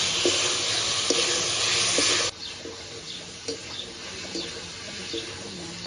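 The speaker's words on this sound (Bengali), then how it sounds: "ডিম আর আলুটা দিয়ে ভালো করে মশলার সঙ্গে একটু কষাবো" Fried eggs and potatoes sizzle loudly as they are stirred into masala for a country-style desi egg curry, a steady hiss that drops sharply midway and continues softer with light scraping taps.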